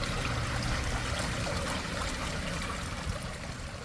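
Water trickles in a small stream beside a mountain trail, a steady, soft, hissing babble that continues evenly throughout with no voices.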